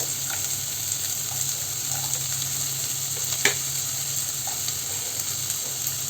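Garlic, carrot and chopped beans stir-fried for chicken fried rice, a steady loud sizzle with soft scraping stirs and an occasional clank, close and continuous without talk.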